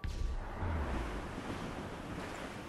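Wind and ocean waves rush steadily around a sailing ship at sea in Assassin's Creed Rogue, a broad, low, washing roar that is moderately loud and constant, with no voices.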